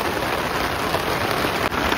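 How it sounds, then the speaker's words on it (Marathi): Heavy rain pours down steadily on a village field, a dense, even hiss of drops hitting the surface, loud and continuous with no voices. "पाऊस तर लय जोरात आलाय"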